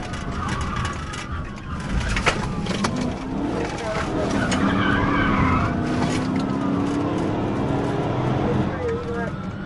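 A car roars along at speed in a police pursuit, its engine droning steadily and loudly with tire noise, and a voice talks over it.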